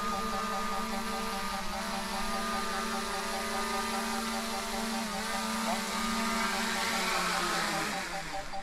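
A DJI Mini 3 Pro drone flies close by at its first take-off and landing, a steady high-pitched propeller whine with shifting tones that holds loud and continuous throughout.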